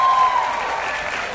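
Conference audience applauding a company speech, a dense burst of clapping that holds steady and fades slightly over its short length, with no talk over it.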